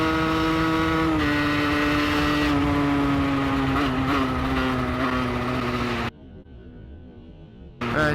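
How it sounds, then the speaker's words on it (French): A car accelerates, its engine pitch climbing in a loud, steady revving drone heard from inside, then cutting off sharply near the end. "On accélère."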